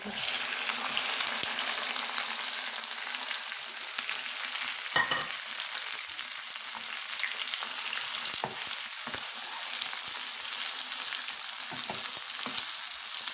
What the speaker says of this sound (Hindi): टमाटरों को हमने इसके साथ फ्राई करना है कि ये नरम हो जाए।